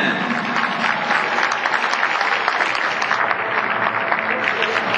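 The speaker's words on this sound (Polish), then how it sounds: "należą się naprawdę gorące brawa dla wszystkich zawodników" Audience applause for riders at an equestrian parade in Wrocław, a steady, dense wash of clapping that holds at an even level throughout without clear breaks.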